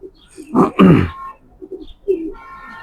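Racing pigeons from the same loft, including a hen, give a loud, close burst of rough throaty noise followed by quieter, rolling coos, with no voices.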